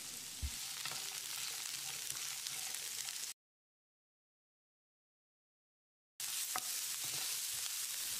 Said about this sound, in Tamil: இதில் 1 கப் அளவுக்கு நறுக்கின சின்ன வெங்காயத்தை சேர்த்து வதக்கிடலாம்.